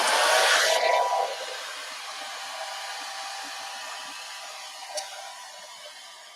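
A hair dryer blows on a layer of ink on Yupo paper, a loud steady whoosh for about a second before it cuts off, leaving a faint hum and a small tap.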